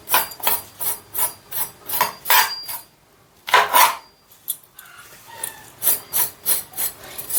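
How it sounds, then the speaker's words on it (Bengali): Repeated rasping scrapes of a knife peeling young pumpkin stalks, in quick rhythmic strokes with a short pause midway, close and clear with no talk. "এটা একটু ছুরি করে এরকম করে ছুলে নিতে হবে"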